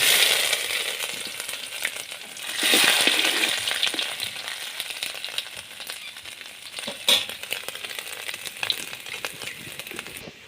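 Crushed ginger drops into hot oil as a tempering and fries with a bright, crackling sizzle that swells for a moment and then settles into a steady spitting hiss, with scattered small pops and clicks.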